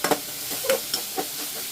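Onions cooking in a pan until soft, a gentle steady sizzle with a few soft stirring scrapes, close and moderately quiet with no talking.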